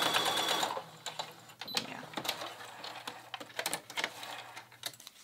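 A domestic sewing machine bastes zipper tape for a sweater. It starts with a rapid whirring run, then gives a series of short stop-start bursts of needle clatter at close range, with no talk over it.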